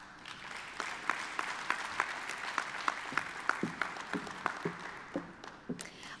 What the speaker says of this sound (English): I'll pause for extra applause.